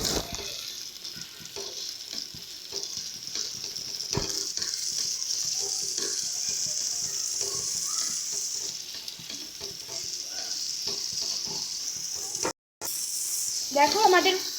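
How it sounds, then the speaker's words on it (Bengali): Spice paste with turmeric and salt frying in a pan for begun posto, a loud, steady hissing sizzle with scattered stirring scrapes, close up, cut by a brief dropout near the end before the sizzle returns stronger. "ভালো করে এবার আবারও মশলাটাকে কষিয়ে নেব।"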